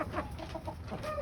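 Several chickens cluck close by in short, repeated bursts, soft but clear, with no one talking.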